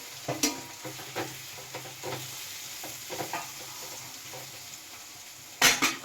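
Potatoes cooking in hot oil in a home kitchen pan, a soft steady sizzle broken by scattered scraping taps of a spoon against the pan and a sharper clatter near the end, fairly quiet and close.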